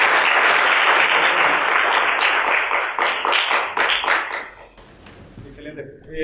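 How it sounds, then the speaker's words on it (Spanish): Audience applause at a parapsychology lecture: dense, loud clapping from a crowd that continues for several seconds, then thins out and fades, with a few scattered claps near the end. "Un aplauso nuevamente, por favor."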